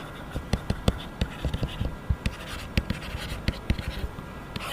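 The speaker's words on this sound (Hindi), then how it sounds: "सबसे पहले हम लिखेंगे यहाँ पे गिवन डाटा" A pen writes out given data for a physics problem on paper, scratching in quick irregular strokes and taps, close and fairly quiet, with no talk.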